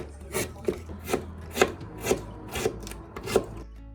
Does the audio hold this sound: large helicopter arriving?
no